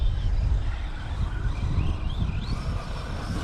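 A Traxxas Hoss 4x4 RC truck on a 3S battery drives past with a low rumble and a thin electric motor whine that rises in pitch near the end, fairly faint and with no voices.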